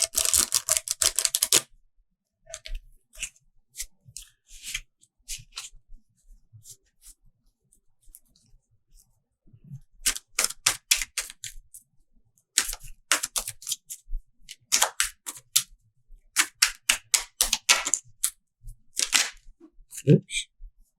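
Tarot cards riffle and slap together in several bursts of quick crisp flutters, separated by quiet pauses, close up and moderately loud.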